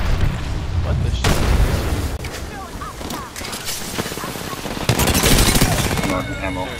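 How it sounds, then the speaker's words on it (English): Frag grenade and thermite blasts in the Apex Legends video game, as loud booms and crackling gunfire-like bursts that fill the whole stretch, with a sharp, bright surge of explosive noise near the end. "Throwing frag. Throwing thermite."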